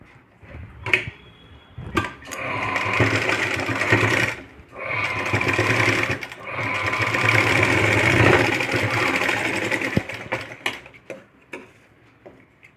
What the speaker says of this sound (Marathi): इथे हे असं ठेवायचं आणि इथे शिलाई मारून घ्यायची